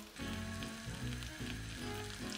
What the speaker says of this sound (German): weil das das Geräusch ist, was sie an der Pfanne machen, weil sie bubblen und squeaken